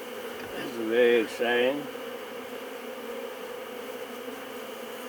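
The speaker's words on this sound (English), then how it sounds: "I'm worried about those bees that are back there." Bees hum in a steady, continuous drone during a first inspection of a beehive, close by and moderately loud. A person speaks briefly over the buzzing.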